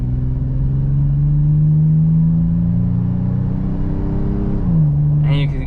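A 2024 Toyota 4Runner TRD Pro with its V6 at full throttle, a loud, throaty engine drone climbing steadily in pitch before a brief dip as it shifts, then pulling again.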